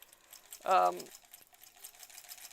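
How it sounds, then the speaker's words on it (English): A sewing machine stitches along the edge of a steeked wool knit sweater in one short, loud burst of about half a second, then stops. Low room noise and faint movement follow. "I'm gonna sew like on this side."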